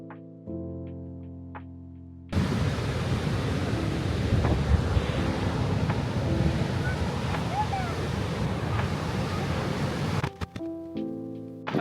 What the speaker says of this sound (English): The sea's pretty crazy though. It's mega rough, like the end of the storm.